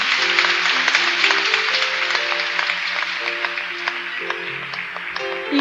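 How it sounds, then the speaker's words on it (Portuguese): A congregation applauds loudly and steadily during a Catholic Mass, the broad clapping sustained throughout while organ or keyboard notes play underneath. "Aplauda mais forte a palavra do Senhor"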